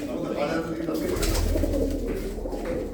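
Pigeons coo in low, throaty rolling calls, close and fairly loud, with a person talking over them.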